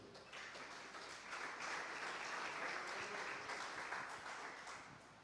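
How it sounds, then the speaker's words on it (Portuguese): A church congregation applauds steadily for several seconds, a dense and even wash of clapping that swells and then fades slightly toward the end, with no talk over it. "Aplauda o Senhor."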